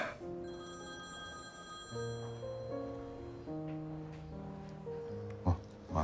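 A telephone rings in a domestic drama scene, with steady electronic ring tones repeating in a tuneful pattern at moderate level across the whole stretch, no voices over it.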